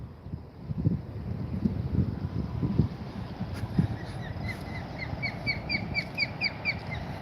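A peregrine falcon gives a rapid series of harsh, high squawks, distant and fairly faint, over wind noise and low rumbling.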